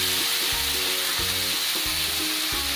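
Chopped onion, green chilli, tomato and carrot fry in a pan for poha upma, giving a loud, steady, close sizzle. A faint rhythmic tone pattern sits underneath, and no one speaks.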